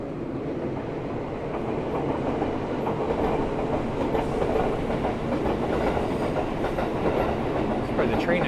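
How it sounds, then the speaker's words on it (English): A train passes through Arita, Japan's porcelain town: a loud, continuous rumble with rhythmic wheel clatter, steady and close throughout. "And train coming by."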